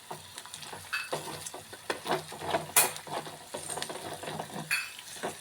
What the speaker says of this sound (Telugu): ఇలాగా కొంచెంసేపు ఫ్రై చేయాలండి ఆయిల్లో